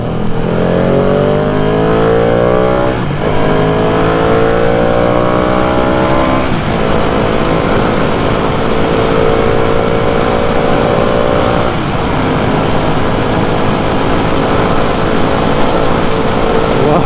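Ducati Panigale V2 motorcycle at speed, engine droning loud and steady with rising harmonic sweeps through gear changes, a few brief shift dips, continuous wind roar throughout.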